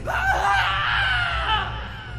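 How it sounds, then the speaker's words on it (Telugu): A man's scream carries from a pond embankment at night in a horror story, a strained, wavering cry that holds for about two seconds at moderate distance, heard alone. "ఒక్కసారిగా చెరువు కట్ట నుండి బాలాజీ అరుపు వినిపించింది"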